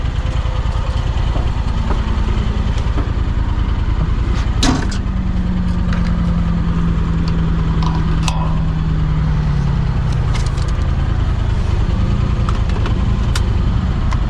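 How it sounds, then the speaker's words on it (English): A 2025 Honda Talon 1000R side-by-side fitted with a Jackson Racing turbo, driven off-road in the dunes, gives a loud, continuous engine roar with a rising and falling tone as it accelerates, with bumps and knocks from the rough terrain. "rip this thing around, and show you guys what it's like driving the Turbo Talon"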